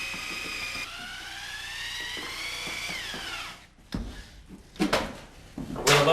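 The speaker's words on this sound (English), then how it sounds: "I chuck a large paddle mixer into my 1/2-inch drill and stir until smooth" A 1/2-inch drill spins a large paddle mixer through joint compound. Its motor whine holds steady and then shifts, and bursts of scraping and knocking follow as the paddle churns the mix. The sound is close and moderately loud.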